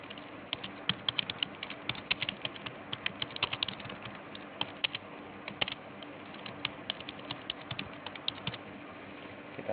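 Rapid, steady keystrokes clatter on a computer keyboard nearby, a dense run of light clicks with occasional heavier taps, quiet and without talk.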